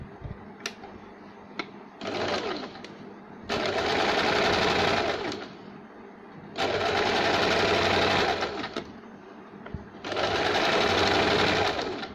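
A sewing machine stitches a saree blouse lining in several bursts of fast, steady running, with quieter pauses between runs, close and alone.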